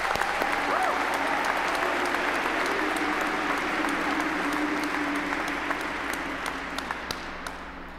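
A large audience at a high school graduation ceremony applauds a faculty speaker, an English teacher, with sustained dense clapping that slowly fades toward the end, heard from within the hall.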